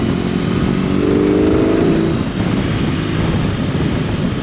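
A 2022 BMW R18B motorcycle engine drones steadily while riding, a close low rumble with a brief rising tone as it revs, accompanied by wind noise and no talking.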